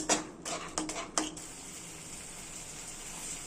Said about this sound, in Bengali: এটাকে ভালো করে কিন্তু কষাতে হবে।